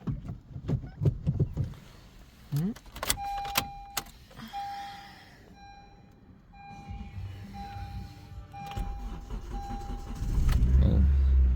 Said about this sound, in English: it's been a while since I started this car